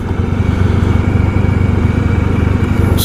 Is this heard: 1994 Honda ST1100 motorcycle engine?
yes